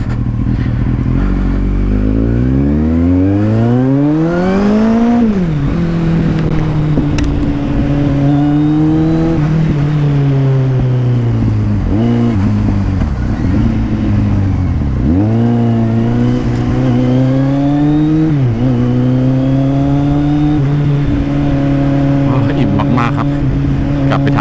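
A Kawasaki Z800 motorcycle rides through city traffic, its engine note climbing and dropping through repeated gear changes and throttle swells, loud and steady throughout with road and wind noise.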